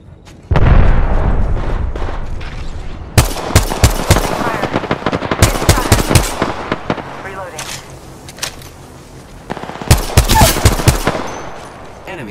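Heavy automatic gunfire in Apex Legends, loud and close, with rapid bursts and booming impacts that stop and resume several times while a voice talks over the shooting.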